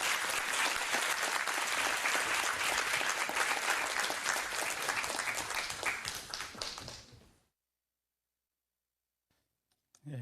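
Sustained audience applause welcoming Professor Ahn Dae-hoe to a Korean lecture stage, dense and steady for about seven seconds before fading out to silence, followed by a faint thump near the end.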